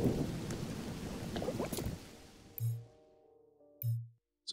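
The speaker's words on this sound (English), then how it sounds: "things are going to get very broken as we're getting hit by lightning" Heavy rain and a rumbling thunderclap from lightning strikes in the Mind Over Magic video game, the storm roar dropping away and leaving a couple of low muffled thuds and quiet tones.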